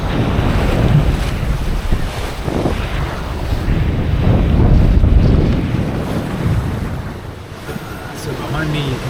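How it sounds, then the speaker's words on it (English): Rough southerly swell and gusting wind buffet a sailboat crossing from New Zealand toward Minerva, with loud, surging waves and heavy wind roar buffeting the microphone throughout. "There's a sort of a southerly swell with wind and the leftover easterly coming across it"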